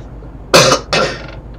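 Two harsh coughs in quick succession, close and loud, each a short burst against a quiet background.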